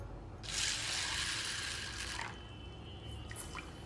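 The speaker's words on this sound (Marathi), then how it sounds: "दोन पाण्याने स्वच्छ धुवून घेऊ" Soaked sago pearls are rinsed in water, heard as a close splashing pour lasting about two seconds. Softer trickling and small drips follow.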